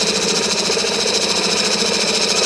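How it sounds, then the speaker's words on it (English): Fingernail gouge taking a fine cut in extremely dry wood on a spinning lathe, a steady dense rasping hiss with a faint rhythmic flutter, continuous and close throughout. "I'm going to start rubbing the bevel and then turn the blade to initiate the cut."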